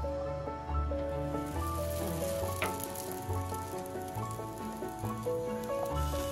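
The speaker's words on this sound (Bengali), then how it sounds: "প্রথমে আমি চারপাশটা খুব সুন্দর করে আমি ভেজে নেব" Paratha frying in a pan with a steady, soft sizzle running throughout, set under louder melodic background music that largely covers it.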